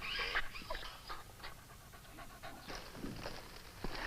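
An injured dog with a gunshot wound pants in quick, rhythmic breathy bursts, close and soft, with no talking over it.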